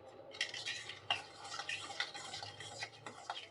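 A metal bowl is set down inside a pressure cooker holding water, giving light scraping and clinking knocks in an irregular run, close and fairly quiet.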